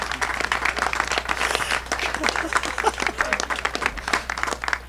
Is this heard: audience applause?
yes